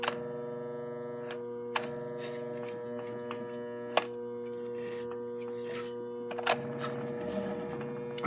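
A 2-horsepower mill motor with a fault that keeps it from starting properly hums steadily at a low, even pitch, with occasional small clicks and knocks over the drone.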